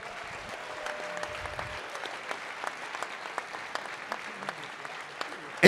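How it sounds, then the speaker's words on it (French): Light, scattered applause from the audience at a hackathon closing ceremony, the Hackfest; soft individual claps sound sparse and fairly distant throughout. "On les applaudit encore bien fort."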